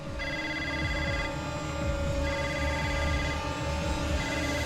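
An old-style telephone rings steadily in a tense household drama scene, its bright electronic trill loud and continuous, pausing briefly once before resuming, over a low background hum.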